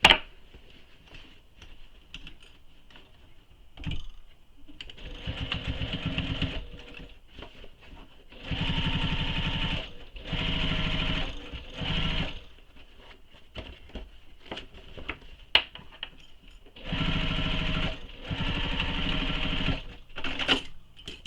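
A sewing machine stitches a second row on a tote bag in several bursts of rapid, steady mechanical chatter, each lasting a few seconds and separated by quiet pauses, with no talking.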